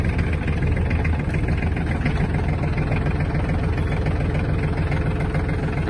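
A Japanese Iseki TG-253 mini tractor engine idles steadily just after starting, a dense, even, continuous rumble held close and loud without talk.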